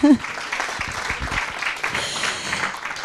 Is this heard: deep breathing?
no